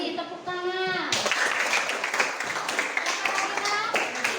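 Schoolchildren in a classroom lesson burst into a round of clapping after a brief spoken exchange, many hands clapping steadily and fairly loud, close by for several seconds.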